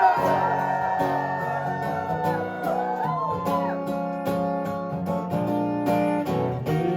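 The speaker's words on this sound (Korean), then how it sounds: "오늘따라 여러분의 환호성이 듣고 싶습니다 소리쳐!" A concert audience cheers and whoops loudly in a small-room live show, with shouts and yells rising over ringing instrumental music that plays continuously beneath the crowd noise.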